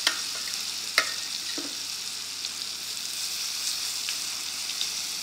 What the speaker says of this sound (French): Et on va laisser rôtir légèrement